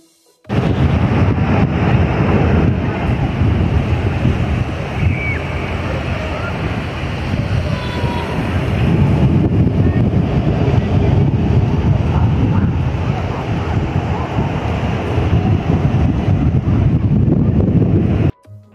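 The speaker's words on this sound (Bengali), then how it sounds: "তার থেকেও বেশি ভালো লাগে সমুদ্রের এই আওয়াজ" Atlantic ocean surf rolling onto the beach with strong wind, a loud continuous roar of breaking waves and buffeting wind noise filling the whole stretch.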